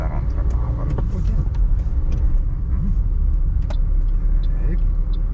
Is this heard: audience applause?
no